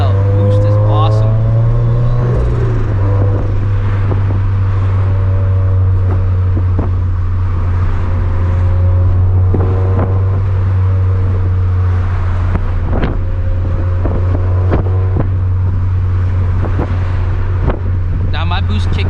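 A Greddy-turbocharged FR-S car pulls hard under boost, its steady low engine drone rising in pitch early on, with whooshing intake air and wind buffeting throughout and a voice talking over the run.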